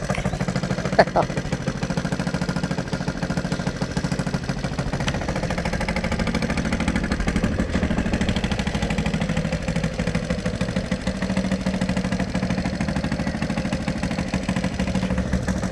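A Honda XR100 motorcycle engine idles steadily and loudly throughout, a constant low rumble with mechanical clatter and no breaks.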